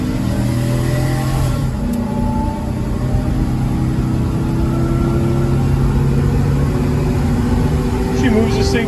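A small V8 bus engine with a 4L80E transmission pulls hard under acceleration on a highway toward 70 mph, a loud steady drone with road and wind noise throughout.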